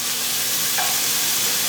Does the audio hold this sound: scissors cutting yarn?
no